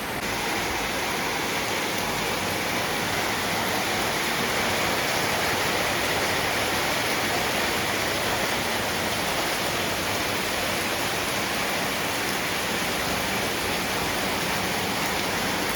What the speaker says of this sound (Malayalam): മഴ കൊണ്ടിട്ട് നല്ല മഴയാണ്